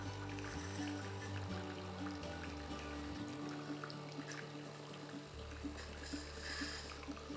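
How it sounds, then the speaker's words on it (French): A Senseo coffee machine, just repaired after a capacitor fault, brews coffee: a steady pump hum with water trickling and dribbling into the cup, continuous and fairly quiet, with a change in the tone midway. "Voilà, donc je lance le café."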